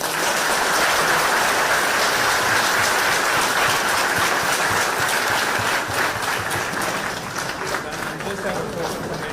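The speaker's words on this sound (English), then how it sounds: "can we give him a round of applause?" A crowd applauds steadily and loudly, dense clapping sustained throughout with a slight easing toward the end.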